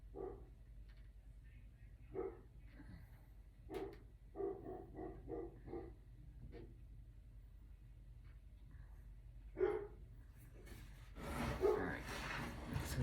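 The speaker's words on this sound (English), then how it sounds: "I gotta see what he's barking at" A small dog in a little jacket and sneakers barks in short, scattered yips and woofs outdoors in the snow, fairly faint and spaced apart, with a busier burst of noise near the end.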